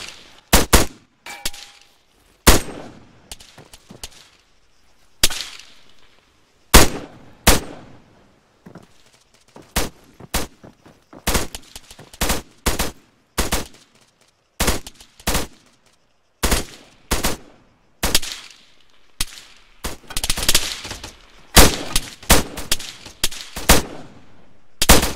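Gunfire in the military video game ARMA 3, with sharp rifle shots and short bursts ringing out in irregular clusters, some close and loud and others fainter, separated by brief quiet gaps.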